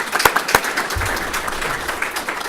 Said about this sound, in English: So I want you to give a hand of applause to Meg Dardanova for stepping forward.